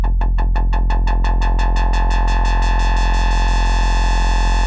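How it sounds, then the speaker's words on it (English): A wub bass made in the Serum synthesizer sweeps open like a filter, rapid pulsing ripples smoothing into a sustained, buzzy drone, loud and alone. "It's like an opening, filtery, weird sound."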